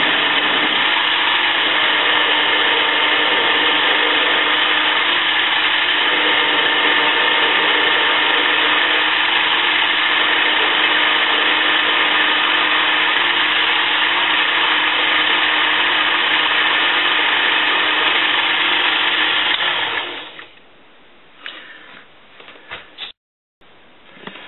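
A threaded steel pipe nipple screwed onto a mandrel is cut on a machine, giving a loud, steady grinding whir for about twenty seconds before it winds down into a few scattered clanks and near silence.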